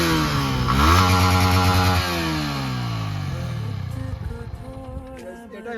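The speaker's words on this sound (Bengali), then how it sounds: "এটাই হচ্ছে আমার বাইকের নর্মাল সাউন্ড।" A motorcycle on its stock exhaust idles, then revs up loudly near the start and settles back into a steady mid-pitched engine drone that continues unbroken to the end.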